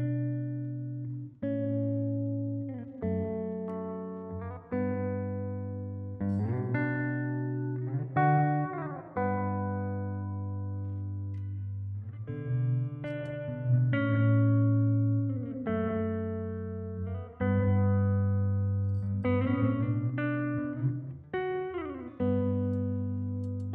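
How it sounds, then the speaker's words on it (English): Electric guitar played through the hall reverb setting of a Boss RV6 reverb pedal, a string of plucked notes and chords each trailing a long, spacious wash, played alone at moderate volume. "So that was the hall sound, wasn't it? Which I really like the hall on this pedal."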